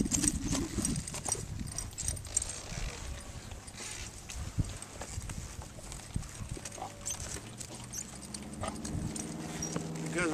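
A horse being lunged in an arena, with irregular hoofbeats thudding and clopping throughout at moderate distance, mixed with scattered rustles and a low hum later on.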